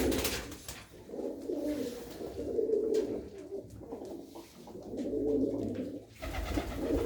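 Blue pigeons belonging to a hobby breeder coo in low throaty swells, several rising and fading phrases one after another close to the listener, with soft ambient noise and no speech.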